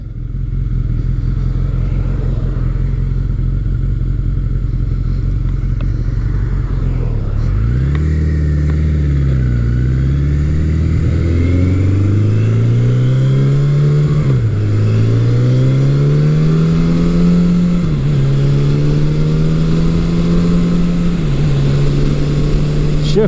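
A 1983 Suzuki GS1100E motorcycle engine revs through its gears on a test ride, pitch climbing and dropping with each shift, loud and close throughout with no talking.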